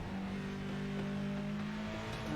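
Mercedes AMG Junior race car engine droning steadily under driving load, a loud continuous in-car hum with a strong low tone throughout and no speech.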